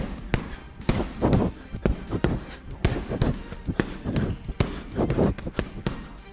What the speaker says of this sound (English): your third combination is body shots.